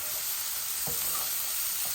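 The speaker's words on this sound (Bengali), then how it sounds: "এই দেখুন আমার চিংড়ি মাছ আর কাসকি মাছগুলা ভাজা ভাজা হচ্ছে।" Shrimp and dried kachki fish sizzle steadily in hot oil in a pan, a constant close hiss with a couple of soft stirring scrapes.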